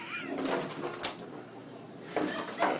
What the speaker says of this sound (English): It's just a little bird.